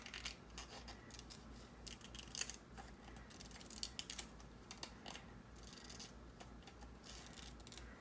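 Scissors snipping a butterfly wing from a scrap of magazine paper for a collage: quick, close, irregular crisp cuts and rustles spread across several seconds, with no voices.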